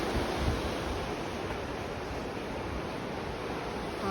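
River flowing at Blagaj, Bosnia, near the Tekke and its cave entrance, a steady broadband rush of moving water filling the scene without pause.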